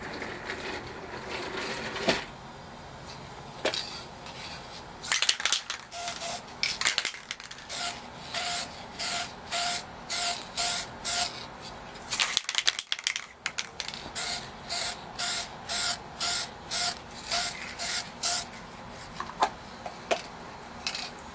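Short, regular hissing bursts of spray paint are aimed at Xbox 360 controller buttons, triggers and thumbsticks, close and fairly loud, pulsing in a steady rhythm with brief pauses between groups of bursts.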